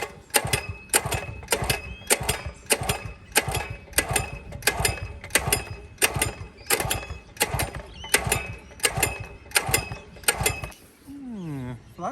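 A two-stroke lawn edger, choke off and throttle full, cranked repeatedly by its recoil pull-start: about a dozen loud, evenly spaced ratcheting pulls close by, with no catch, then a short whirring tone at the end.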